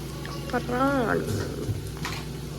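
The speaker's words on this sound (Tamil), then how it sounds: "நல்லா வதக்கி விட்டுட்டு இப்போ நம்ம ப்ரான் சேர்த்துக்கலாம்." Prawns going into curry masala in a pan, with a steady close sizzle and frying hiss running throughout while a voice talks over it.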